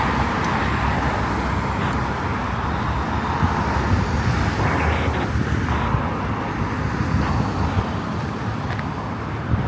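Dense road traffic rumbles steadily at close range as a line of cars queues for the Don Valley highway entrance on an evening walk in Toronto's east end, with wind buffeting throughout and no voices.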